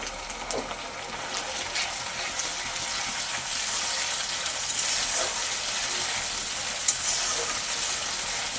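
Tomato paste frying in a pan with onion and ginger-garlic paste for chicken curry, a continuous bright sizzle with occasional light clinks of stirring, and no talk.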